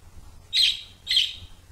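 A small bird chirps twice, two bright, clear calls about half a second apart, close and alone over a faint low hum.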